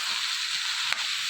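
Ivy gourd pieces sizzling in a pan, a loud, steady hiss running throughout, broken once by a brief scrape of stirring.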